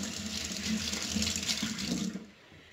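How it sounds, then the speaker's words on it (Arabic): A knife rinsed under a running kitchen tap, a steady close splash of water over the sink that stops abruptly after about two seconds. "انا غادي نغسل الموس"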